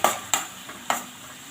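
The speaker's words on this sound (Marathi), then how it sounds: "याला आपल्याला छान गोल्डन कलर येईपर्यंत भाजून घ्यायचा आहे।" Finely chopped onions frying in a pan for egg masala, a soft continuous sizzle broken by a few sharp spatula scrapes, close and fairly quiet, with no talking.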